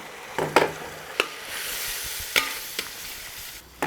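A spoon stirs cornflour into orange juice for orange chicken, soft swishing with a few crisp clicks against the bowl spaced out over several seconds, close and fairly quiet, no speech.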